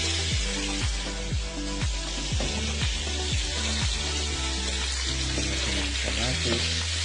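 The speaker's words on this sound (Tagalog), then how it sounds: "tapos ako siyang igisa guys" Squid sautéing in a pan, a steady close sizzle and fry with repeated scraping stirs over a constant low hum.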